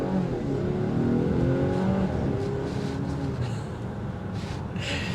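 2025 Volvo XC60 T8 plug-in hybrid under hard acceleration, a steady loud rush of engine and road noise that holds for several seconds with slight rises in pitch, with no talking over it.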